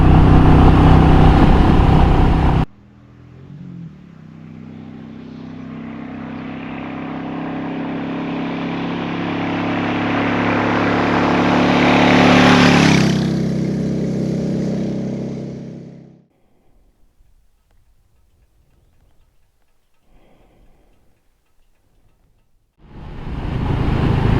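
Royal Enfield Meteor 350 motorcycle climbing uphill, the single-cylinder engine note rising steadily as it pulls under wind rush, then fading away to near quiet before another loud burst at the end.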